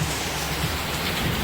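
Steady rain falling in Hanoi, Vietnam, a dense, even hiss of drops on surfaces, loud and close, continuous throughout with no voices.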